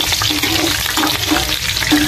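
Punugulu snacks fry in a generous amount of hot oil, giving a steady, loud, close bubbling sizzle with faint stirring, and no talking.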